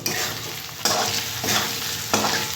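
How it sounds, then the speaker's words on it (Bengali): Turmeric, cumin and coriander powder fry in a pan while being stirred, a close, steady sizzle broken by scraping strokes roughly every second. "জাস্ট একটু ভেজে নেব মশলাটা"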